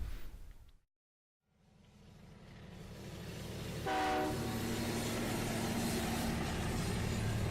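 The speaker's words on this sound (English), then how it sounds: "And then the train pulls up to the customs office" A train rolls in toward the customs building at the North Korean border, rumbling steadily after a brief silence, with a short horn blast partway through over the continuous drone of the cars.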